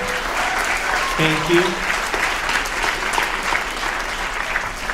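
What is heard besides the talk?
audience applause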